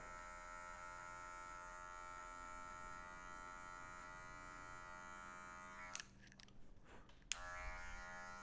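Electric hair clippers fitted with a size 1 guard hum steadily while cutting hair for a mullet, a constant buzzing drone that breaks up briefly near the end.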